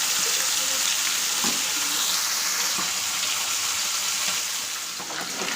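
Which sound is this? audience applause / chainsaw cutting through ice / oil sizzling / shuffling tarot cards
oil sizzling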